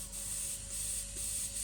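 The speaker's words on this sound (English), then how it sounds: "Spray around all your pressurized piping" A spray bottle of water with a little detergent mixed in mists pressurized boost piping on a car, making a soft, steady hiss that pulses with a few repeated trigger pulls, close by and with no talking.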